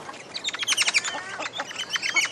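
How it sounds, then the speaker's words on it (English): Several birds chirp and squabble close by on the Great Ocean Road, sharp overlapping tweets and calls bursting in quick clusters over a quiet background. "Oh, bird fight."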